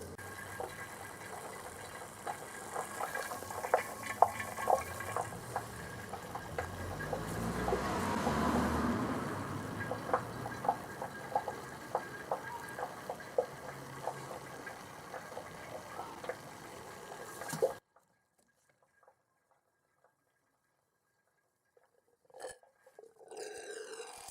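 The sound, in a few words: coolant draining from VW T4 expansion tank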